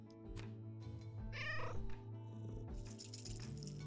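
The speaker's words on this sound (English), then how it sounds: "I just heard a real cat meow." A real cat lets out a drawn-out meow in the room while a cozy cat-themed quilt video game plays steady background music, the cry rising and falling over about half a second, moderately close and clear above the music.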